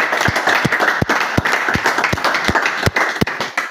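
Church congregation clapping together in a steady rhythm in praise of the Lord Jesus, dense loud applause with rhythmic beats and faint voices under it.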